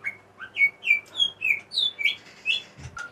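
A white-rumped shama (murai batu) sings a quick run of about ten bright, clear whistled notes in steady succession, loud and close, with no voices over it.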